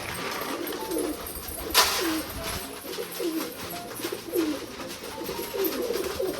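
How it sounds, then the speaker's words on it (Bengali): Pigeons coo repeatedly in a rainy-day setting while being fed grain, with soft rhythmic coos rising and falling over steady background patter; a louder rustle or flutter breaks in near the start. "নর পায়রাটা মাদিটাকে খেতেই দেয় না"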